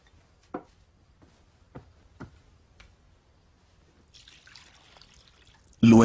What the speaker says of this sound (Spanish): Luego echó agua en una vasija